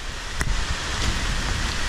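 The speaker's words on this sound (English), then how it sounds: "sometimes you walk in the rain. And so we are walking in the rain" Steady rain falling on a hiking trail along the Appalachian Trail, a constant broadband hiss of drops, close and even, with no voices.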